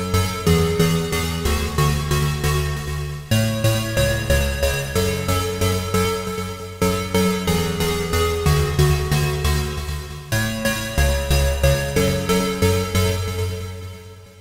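Synthesizer lead patch modeled on a trance track, playing a repeating rhythmic melodic phrase in steady pulsing notes with a sustained bass underneath, loud and alone with no talking.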